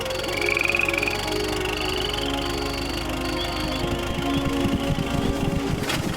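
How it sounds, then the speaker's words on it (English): Cartoon night scene with frogs croaking in a layered chorus of buzzing, rattling calls alongside whistling tones, steady and moderately loud throughout, ending in a brief sharp burst. "The frogs croaking?"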